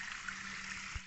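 Water runs steadily at a brick kiln with a continuous hissing trickle, close and moderately loud, before cutting off abruptly at the end.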